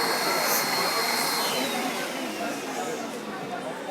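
Univap SW3 wet vacuum cleaning machine suctioning at close range, a steady loud broadband roar with a high whine running throughout, fairly constant in level.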